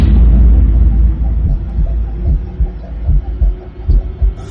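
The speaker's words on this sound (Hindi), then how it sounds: "इसका दिल धड़क रहा है।" Heavy, deep heartbeat thumps pulse in a slow repeating rhythm over a low rumbling hum, loud and close, with no voices.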